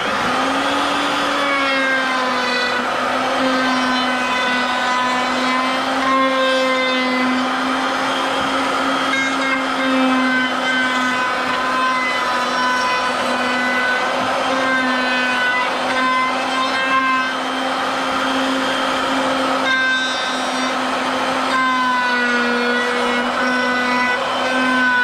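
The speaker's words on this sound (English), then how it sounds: "Got both our legs, and we need to router them on both sides." A handheld router rounds over the irregular edge of wooden lap-desk legs, guided by a bushing, giving a loud, steady high-pitched whine that holds for the whole stretch with small dips as the bit moves along the wood.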